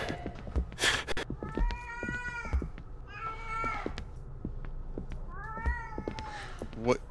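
Cat meowing in the horror video game Erie, several drawn-out mewing calls rising and falling across the stretch, close and clear, with soft thuds and low background ambience in between.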